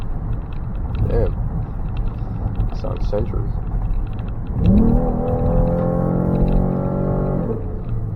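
A Ford Explorer EcoBoost engine that is losing power strains as it tries to build speed. A low rising drone swells in partway through and holds steady under ongoing road rumble while people talk.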